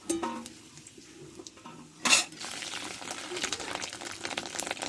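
Fish roe fritters frying in a pan of oil, a soft steady sizzle with a sharp burst of louder spattering and utensil clatter partway through, then continued crackling.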